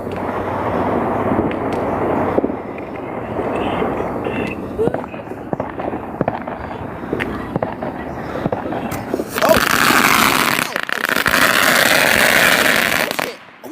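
New Year's Eve fireworks going off nearby: scattered sharp pops and cracks under people talking, then a loud, sustained hissing, crackling burst near the end.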